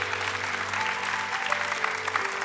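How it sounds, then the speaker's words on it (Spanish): A church congregation applauds during a pastor's sermon, a continuous even patter of many hands at moderate loudness, with a low sustained musical tone underneath. "Give God an applause."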